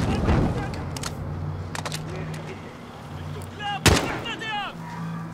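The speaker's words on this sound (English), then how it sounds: "These guns are surprisingly strong for suppressed guns." Suppressed gunfire in the Call of Duty Modern Warfare campaign, several sharp muffled shots spaced irregularly with a louder cracking burst near the end, over a low game ambience hum.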